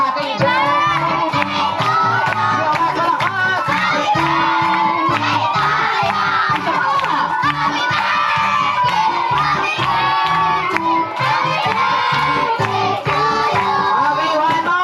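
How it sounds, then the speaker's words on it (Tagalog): At a birthday party, adults and kids shout and cheer loudly together with rhythmic clapping, a dense, sustained crowd roar close by with no break. "lagyan niyo po ng palakpakan na may kasamang sigaw na kayo"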